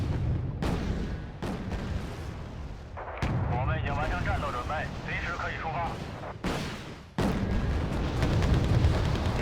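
Artillery and missile fire in the Cold War strategy game Wargame: Red Dragon, with sharp booms and blasts at intervals and a steady rumble of battle. Someone talks over it for part of the time.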